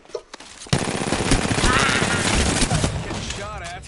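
Video game gunfire bursts out suddenly in rapid automatic volleys, loud and sustained over a few seconds, with voices faintly present underneath.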